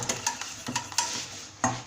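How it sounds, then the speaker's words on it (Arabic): Spoon scraping and clinking around a pot while caramel-based milk pudding (mahalabia) is stirred, a few sharp close taps and scrapes in a short steady sequence. "نحركو مليح"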